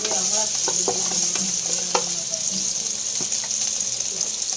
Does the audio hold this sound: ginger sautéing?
yes